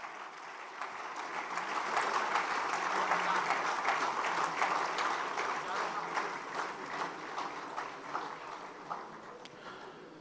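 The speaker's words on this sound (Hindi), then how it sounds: "बहुत जोरदार तालियां" Enthusiastic applause fills the hall at a literary award ceremony as a writer is honoured, a broad, sustained wash of many hands clapping that swells early and holds steady throughout.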